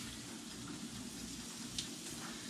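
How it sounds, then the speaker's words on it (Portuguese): Fish pieces frying in oil, a steady close sizzle and crackle with scattered small pops running throughout and no speech. "mais uns minutinhos aí de fritura só para a gente finalizar essa primeira parte"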